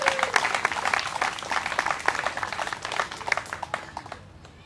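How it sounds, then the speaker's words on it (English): Outdoor audience applauding at a playground ribbon cutting in a park, scattered individual claps forming a lively patter that gradually thins and fades toward the end. "let's give them another round of applause for their assistance with this project"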